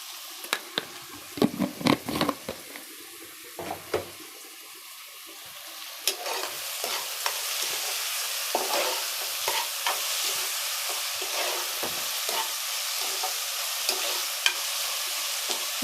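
Sliced onions frying slowly in a pan with salt and turmeric, a steady close sizzle that grows fuller midway, punctuated by repeated quick spoon scrapes and soft clicks early on, no voices.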